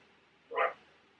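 A single short dog bark, fairly faint and somewhat distant, standing alone against a quiet indoor background.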